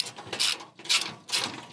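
A ratcheting wrench tightens 11mm bolts on a rickshaw cargo trailer subframe, its rasping clicks coming in three close, loud bursts with brief pauses between strokes.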